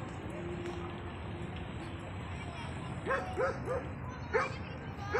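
A dog barks several times in quick bursts over steady background noise and faint voices, somewhat distant, at night in Antalya, Turkey.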